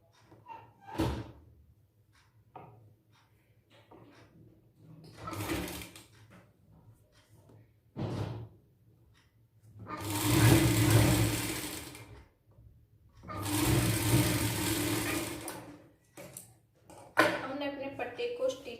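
Sewing machine stitching a belt strip onto a three-piece princess blouse, two loud sustained bursts of stitching of about two and three seconds, set between short knocks and handling noises, with someone speaking before and after.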